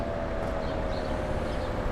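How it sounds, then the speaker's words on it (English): A New York City fire truck siren winding down to an unusually low pitch, a steady low drone heard amid street noise on a Manhattan walk. "I've never heard the siren go this low before."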